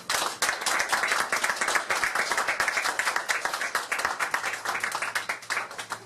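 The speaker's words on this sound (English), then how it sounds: "So let's go ahead and honor these great women with our applause" Sustained audience applause honoring Louisiana's poets laureate at a society event, dense steady clapping from many hands filling the room without a break.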